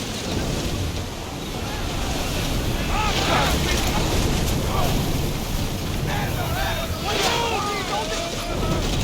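A sailing ship cuts through open sea in Assassin's Creed Odyssey, with steady rushing waves and wind noise throughout and faint voices of the crew calling out over the water.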